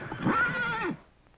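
A horse whinnies loudly once with a rising then falling neigh lasting under a second, heard alone in an old promotional film announcement.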